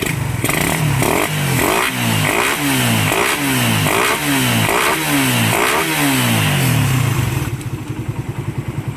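A motorcycle engine revs hard and repeatedly in loud, rhythmic surges, each throttle blip rising then dropping, close and raw, before settling into a steady, lumpy idle.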